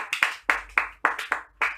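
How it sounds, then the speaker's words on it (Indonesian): A classroom of students claps for a classmate in a microteaching lesson, a sparse run of about seven distinct, moderately loud hand claps in an irregular rhythm. "beri tepuk tangan untuk Manda."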